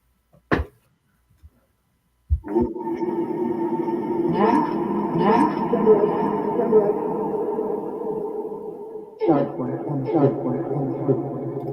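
A ghost box radio sweeps through stations, giving a sustained buzzing, choppy blur of fragmented broadcast noise after a couple of sharp clicks, cutting in and out near the end.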